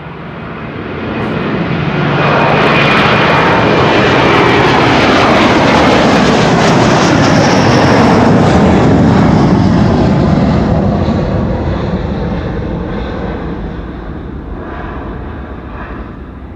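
A Delta Air Lines jet taking off from Schiphol's Kaagbaan runway 24 swells quickly into a loud, close engine roar that peaks midway, then slowly fades as it climbs away, with no talking.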